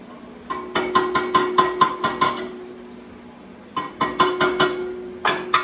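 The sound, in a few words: hammer striking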